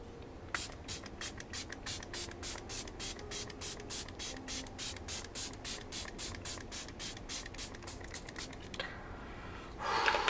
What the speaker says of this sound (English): Let's setting spray it and call it a day.